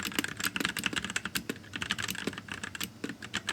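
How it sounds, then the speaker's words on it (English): Rapid, clacky typing on an unmodified mechanical keyboard, dense and continuous keystrokes heard up close with no talking. "this is what it sounded like without any of the modifications we did today."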